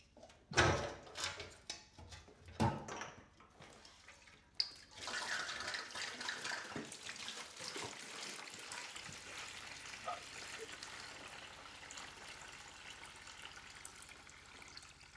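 Water rushes into a 1970s bathtub during a bathroom renovation, starting with a few loud splashing bursts and knocks, then settling into a steady, moderately loud running flow.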